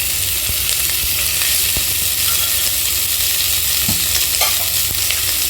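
Sizzling of chillies frying in hot oil, with the occasional clink or scrape of stirring, while preparing a Tamil bottle gourd mash (suraikkai kadaisal); a steady close hiss throughout with no talk.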